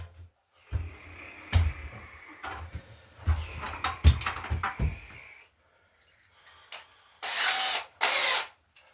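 Unscrewing a screw at a light fixture's wire connection during outlet wiring, heard as bursts of close, scraping tool and handling noise with ratcheting clicks, pausing partway, then two short loud rasping bursts near the end.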